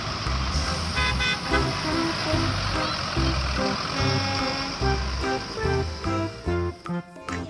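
A toy school bus sounds loud, close horn toots in a rhythmic pattern of repeated short blasts, ending in a few choppy bursts.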